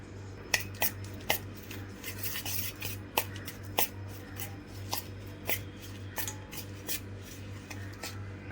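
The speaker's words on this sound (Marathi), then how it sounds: "त्यामध्ये साखर घालूया। मिक्स करून घेऊया।" Ghee and sugar are mixed in a bowl for wheat cookies, a spoon scraping and clinking against the bowl in a steady series of close, sharp taps over a low background hum.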